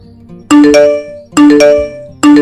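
The new order notification in the TMBill restaurant app: a loud, bright electronic chime of stacked tones that rings three times at a steady pace, with nothing else heard.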